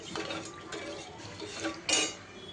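Kadhi gets stirred in a pot with a utensil, giving soft scraping and clinking strokes at a steady rhythm, close and fairly quiet, ending in a brighter clink.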